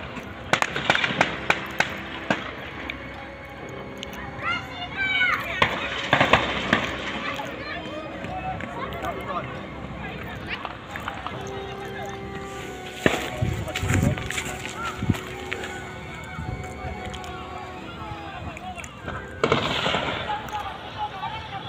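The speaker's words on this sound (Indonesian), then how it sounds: "jam tujuh lewat lima puluh lima mulai baku tembak lagi ya" Distant gunfire exchange between TNI-Polri forces and TPNPB fighters in Intan Jaya, Papua, heard as scattered sharp cracks and short bursts far off, mostly under steady conversation between people nearby.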